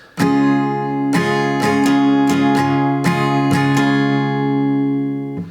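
An acoustic guitar is strummed in a steady rhythmic pattern, chords ringing close and clear with sharp down and up strokes, no voices.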